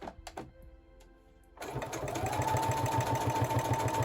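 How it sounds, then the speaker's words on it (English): A sewing machine starts up after a few light clicks and runs steadily, its rapid needle stitching through cardstock close and continuous. "I try to follow the cardstock with my finger and the side of my sewing machine"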